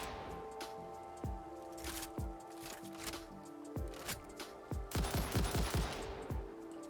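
Rifle fire in the video game Satisfactory rings out in bursts of sharp cracks, scattered shots early and a faster cluster near the end, over a steady background hum of the game.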